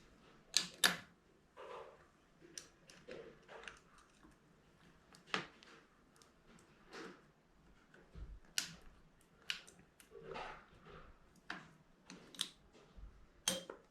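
A small flathead screwdriver pops the piston wrist pin clips out of a Suzuki JR50 two-stroke top end, making sparse, quiet metallic clicks and taps at irregular intervals, close up, with no speech.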